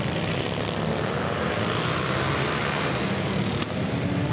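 A vintage WL air-cooled flathead chopper motorcycle at the Flat Out Friday 2024 racing event gives off a loud, steady, unbroken engine roar, heavy and broadband, with no voices over it.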